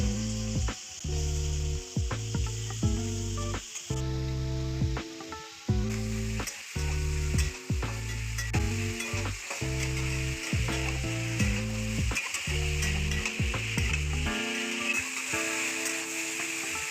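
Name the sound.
potatoes lightly frying in oil in a wok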